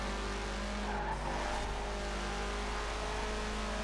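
Rally car skidding in the video game Forza Horizon 4, a sustained tire squeal over a steady engine drone, loud and continuous for several seconds without talk.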